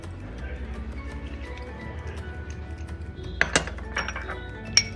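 A spoon clinks and scrapes against a bowl while potato face pack ingredients are stirred together: multani mitti, chandan powder, honey and lemon juice. Soft rhythmic scraping gives way to a few sharp, close metallic taps near the end.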